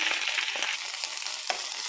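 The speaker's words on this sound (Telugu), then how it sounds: "ఇవన్నీ బాగా వేయించుకోవాలి" Coriander seeds, fenugreek and tamarind dry-roast in a pan for an Andhra-style gongura chutney, giving a continuous close crackling sizzle with light stirring scrapes and no voices.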